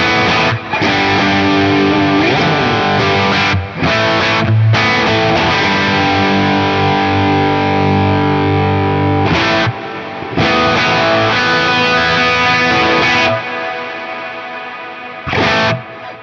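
Guitar played through a big reverb preset on a Fractal FM9 modeler, loud distorted sustained chords with washy trailing reverb, broken by a few short pauses and restarts.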